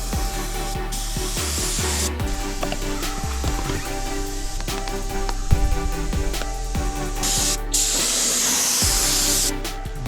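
Spray gun laying a second coat of red paint onto a Jeep CJ7 roll cage, a steady close hiss running throughout with a few short pauses and knocks, no talking.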